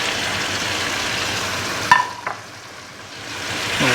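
Spices tipped into a hot pan for a dal mash karahi sizzle and get stirred, a steady loud fry broken by a couple of clattering knocks midway before the hiss eases off.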